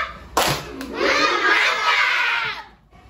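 Children in a classroom clap together in a rhythmic class cheer, a dense, lively patter of small hands lasting about two seconds before stopping abruptly.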